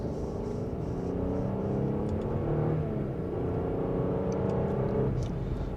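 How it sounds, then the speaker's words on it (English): A 2026 Audi A6 in dynamic mode pulls away in second gear under mild acceleration, heard from inside the cabin as a steady engine drone with a slowly rising pitch under road noise. "In a mild acceleration, we can easily get up to speed."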